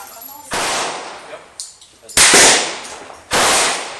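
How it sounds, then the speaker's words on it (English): Three loud, close gunshots at the Elm Fork Shooting Range, each a sharp blast with a long echoing tail, spaced about a second apart. "That was 10 shots already?"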